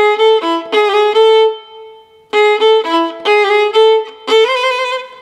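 A solo violin plays a short melodic phrase of bowed notes from a sârba, pausing briefly, then continuing with a lower semitone mordent on G and quick ornamented notes, clear and close.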